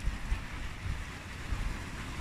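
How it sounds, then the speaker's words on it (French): A mountain torrent below a footpath rushes in a steady, broad wash of flowing water, with some wind noise on the microphone and no voices. "juste en dessous, il y a un torrent aussi"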